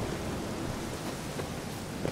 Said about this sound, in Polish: Nie lubimy deszczu, a dalej pada.